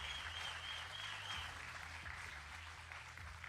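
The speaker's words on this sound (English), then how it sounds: "Give me another round of applause for these two." A watch-party crowd at Summoners Fest applauds the two Battlerealm Brawl finalists: sustained clapping runs throughout, moderately loud, over a low, steady musical drone.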